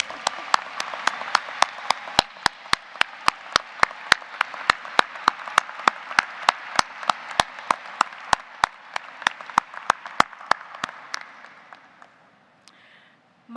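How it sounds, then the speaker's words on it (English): Graduates applaud at the 2024 Boston College Law School commencement: a sustained crowd ovation with a steady, rhythmic unison clap running for about eleven seconds before fading out. "give them a round of applause."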